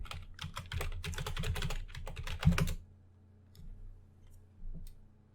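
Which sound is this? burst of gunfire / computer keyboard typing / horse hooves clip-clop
computer keyboard typing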